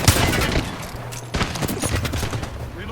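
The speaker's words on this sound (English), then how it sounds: "Shots fired" Rapid gunfire in a fast Apex Legends arena fight, dense bursts of shots and cracks with a short lull near the middle before firing picks up again, loud and close throughout.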